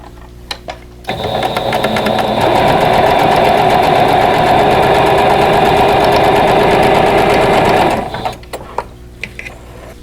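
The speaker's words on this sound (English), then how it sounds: "let's go ahead and sew these two together" A sewing machine stitches quilt block pieces together for a vintage Single Lily quilt block. It runs in one steady, close, loud burst for about seven seconds, with no talk.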